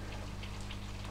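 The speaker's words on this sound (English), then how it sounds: "it's peeing down with rain outside" Heavy rain outside a window falling and dripping onto scaffolding, a dense steady patter with scattered louder drops over a low constant hum.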